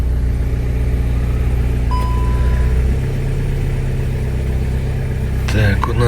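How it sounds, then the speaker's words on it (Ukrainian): A used car's engine running at idle after being started, a steady low drone held close throughout with little change, while a voice can be heard over it. "Давайте заведемо. Заводиться добре."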